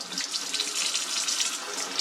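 Cold tap water runs steadily over a Berkey water filter as it is rinsed, a close hissing splash with no speech.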